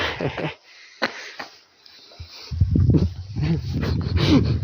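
Dogs in a village at night, with short barks and yelps, some sharp and near, then a denser run of growling, whining calls toward the end.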